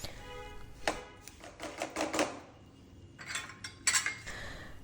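Spoon scraping and clinking in a pan as a gond laddu mixture of nut powders and edible gum is stirred, with irregular bursts of metallic scrapes, close and moderately loud, with no talking.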